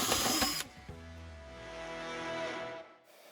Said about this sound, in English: So next we're going to drill a hole for the cable.